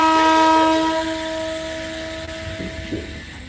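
A train horn sounds at Beed railway station, where a train waits just short of a level crossing; a long, steady, loud blare that thins and fades over a few seconds, with faint rumble and a few knocks after.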